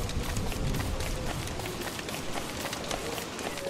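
Steady rain pours in the video game Don't Starve, a dense, even patter of drops hissing across the whole stretch at moderate level, with no talking over it.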